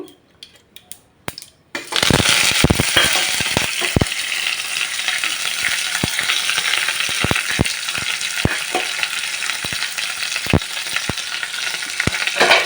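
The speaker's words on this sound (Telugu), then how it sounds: "ఇప్పుడు వీటిని పోపులో వేసుకుందామండి" After a few quiet clicks, a loud sizzle erupts as curry leaves hit hot oil, then crackles continuously with sharp pops.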